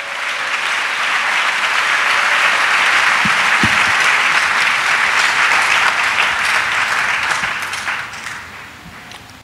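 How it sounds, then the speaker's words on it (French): A church congregation applauds for Jesus during a French revival service: sustained, dense clapping from a large crowd, loud and steady throughout before tapering off near the end, with no voices over it. "Let us clap for Jesus."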